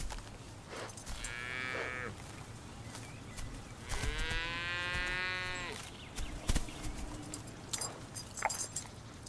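Free-range cattle mooing, a few long drawn-out lowing calls spaced apart, with rustling and shuffling between them at moderate distance.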